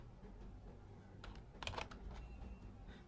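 Computer keyboard keys clatter in a short burst of several quick taps in the middle, faint and close, with a quiet steady hum underneath while code is typed.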